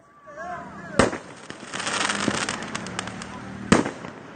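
Fireworks fired at the Supreme Court headquarters building during an extremist group's attack crackle and whistle, with two sharp loud bangs among bursts of popping, and shouting voices mixed in.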